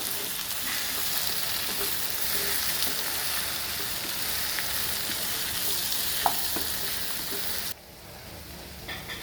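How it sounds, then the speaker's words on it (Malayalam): Curry lemons being stirred into a pickle masala frying in hot oil: a steady, close sizzle with scraping stir sounds that drops quieter near the end. "ഇനി അതിലേക്ക് നമുക്ക് കരുനാരങ്ങ ഇടാം എല്ലാം കൂടെ നല്ലതുപോലെ ഒന്ന് മിക്സ് ചെയ്ത് കൊടുക്കുക"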